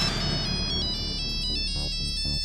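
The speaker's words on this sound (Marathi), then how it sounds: "साहेबांचा फोन आहे." A mobile phone ringtone plays a bright, repeating electronic melody, loud and close, ringing alone without any talk over it.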